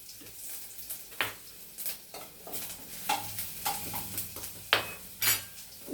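Ginger garlic paste fries in hot oil in a pan, with a soft sizzle under repeated scraping stirs and clinks of a utensil against the pan, close and moderately loud.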